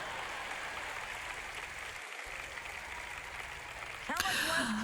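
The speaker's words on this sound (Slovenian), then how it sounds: "Dajte, no, zaploskajte." Audience applause in a hall during a Slovenian-language sermon, a steady spread of clapping that swells louder near the end as a voice rises briefly over it.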